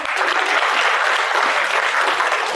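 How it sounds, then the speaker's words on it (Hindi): Sustained audience applause at a career guidance talk in Gilgit-Baltistan, steady and dense clapping from a crowd filling the whole moment without pause. "तालियां बजाओ।"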